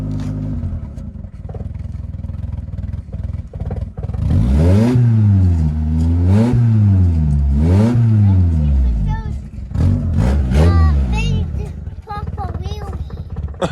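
A 1989 Grand Marquis engine idling roughly, then revved repeatedly in rising and falling sweeps to burn off old fuel, loud and close, with people talking over it.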